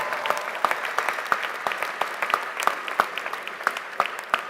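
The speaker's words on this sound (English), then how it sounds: "So what you have accomplished is extraordinary and deserves a round of applause." Commencement audience applauding master's degree graduates, a moderately loud run of clapping with sharp individual claps standing out from the crowd.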